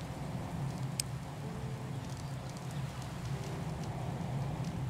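Steady rain falling in the VR voxel game CyubeVR, a soft, even patter with low rumbling beneath, faint and continuous throughout, with no talking.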